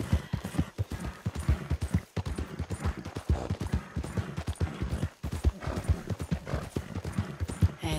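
Horse hooves clip-clop steadily in the video game RedM, a rapid, even rhythm of close, moderately loud hoof strikes that runs unbroken throughout, with no talking over it.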